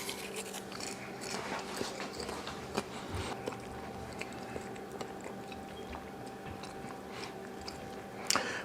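Someone eating AMC Theaters extra butter microwave popcorn, with close, repeated crunchy bites and chewing running steadily throughout, and a sharper crunch near the end.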